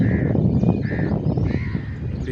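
Several harsh crow caws repeat at a steady pace over a busy low rumble of outdoor background noise.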